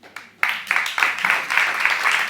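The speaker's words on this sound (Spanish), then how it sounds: "quiero que le deis, por favor, un gran aplauso a esos 3 jóvenes" Audience applause for three young women at an event on racial discrimination, starting with a few sharp claps and quickly swelling into full, sustained crowd clapping.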